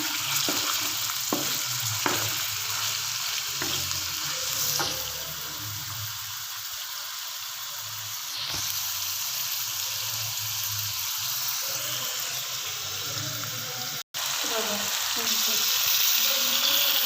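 Chicken for a korma fries in a pan with a steady, close hiss and sizzle throughout, broken by occasional stirring scrapes and one brief dropout near the end.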